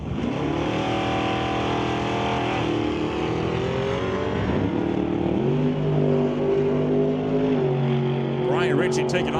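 Drag race cars launching at a quarter-mile event, their engines roaring loud with repeated rising runs through the gears, faint voices mixed in underneath.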